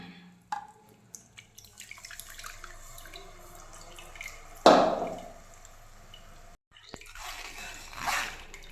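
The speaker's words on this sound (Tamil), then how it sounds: "நம்ம இங்கே அடித்து வச்சுருக்கதை இந்த மாதிரி வடிகட்டிடலாம்" Blended pumpkin soup with butter is strained through a strainer, giving soft wet drips and trickles with a few scrapes and clinks, then a louder burst of liquid falling midway, brief quiet, and more splashing near the end.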